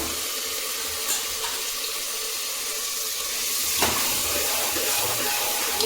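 Tomatoes go into hot oil with cumin and asafoetida, raising a loud, steady sizzle and hiss up close that swells partway through, with no talk.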